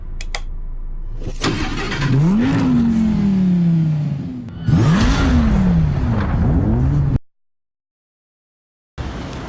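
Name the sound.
Acura NSX hybrid supercar engine revving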